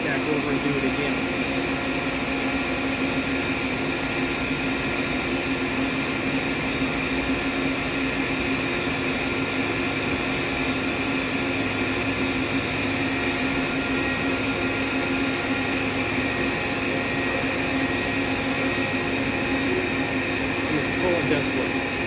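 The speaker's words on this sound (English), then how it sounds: "It'll run to the end and then it's going to shoot back over and do it again." A Fanuc Robodrill a-T14iA drilling and tapping center runs through its cycle, giving a steady, loud mechanical hum and whine that continues unbroken for the whole stretch.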